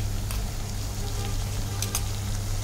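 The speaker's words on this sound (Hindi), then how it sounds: "फाइनली अब हम लोग डालेंगे राइस" Cooked rice tipped into a pan of sizzling vegetables for veg fried rice, with a continuous close hiss of frying and a couple of faint clicks of a utensil.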